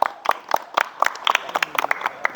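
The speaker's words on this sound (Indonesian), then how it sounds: "Tepuk tangan dulu untuk kelompok 2" Scattered classroom applause for a student group, a handful of sharp, uneven hand claps coming from several people at close range and fading in and out over a couple of seconds, with no voices on top.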